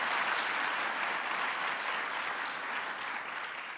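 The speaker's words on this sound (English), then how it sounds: "So please give them a big round of applause." Steady applause from a large audience at a presidential entrepreneurship summit, a dense even wash of clapping filling the whole stretch, fairly distant and slowly tapering near the end.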